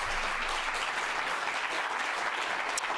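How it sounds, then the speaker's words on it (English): An audience at a policy panel on China in conflict zones applauds the speakers, a dense, steady wash of clapping that fills the whole stretch at even loudness. "if you could give us a round of applause for our speakers"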